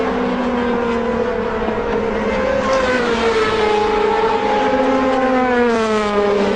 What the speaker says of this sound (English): you hear them going down the gearbox